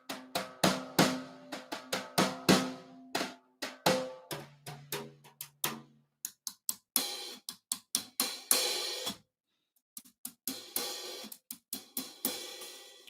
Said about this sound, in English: These are called fat bastards, and these are basically the same as a multi-rod